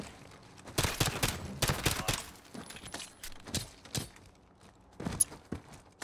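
Gunfire in the Call of Duty: Modern Warfare campaign, a series of loud, sharp shots in irregular bursts with brief pauses, followed by a few quieter clinks and a last shot near the end.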